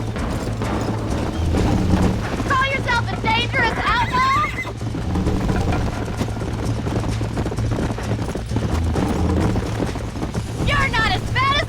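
A horse in the Red Dead Redemption video game gallops with steady hoof clip-clop and lets out several whinnies, while characters talk over it.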